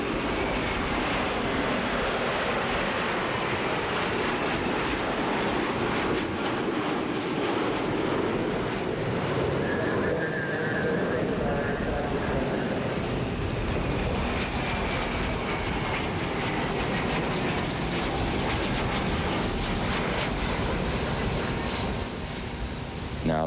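Military planes from Arkansas roar overhead at an air show, a loud, sustained engine drone whose pitch slowly shifts as they pass.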